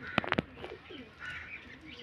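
Pigeons coo close by in a short burst of soft throaty calls, a few quick pulses followed by fainter murmuring, for sale as breeder birds.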